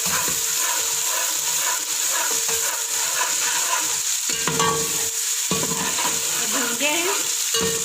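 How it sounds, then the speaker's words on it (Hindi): Garlic ginger paste fries in a pan with a steady, loud sizzle, and a spoon stirs and scrapes through it in clear strokes. No one speaks. "हम इसमें ऐड करेंगे लहसुन अदरक पेस्ट। तो थोड़ा सा भूनेंगे।"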